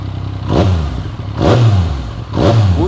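A Yamaha MT-09 V2 motorcycle fitted with an aftermarket exhaust is revved three times in quick succession, each blip rising to a loud throaty roar before dropping back to idle.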